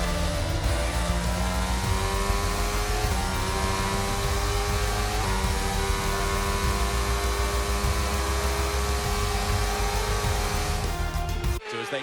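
Formula 1 race car driving on the track, its engine droning loud and steady throughout with shifting pitch, close by, no talk, cutting off abruptly at the very end.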